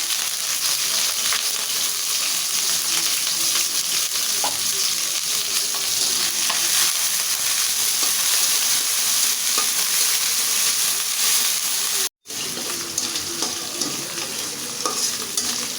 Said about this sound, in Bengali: মাছ চিংড়ি মাছটা পেঁয়াজের সাথে ভাজা ভাজা হয়ে গেছে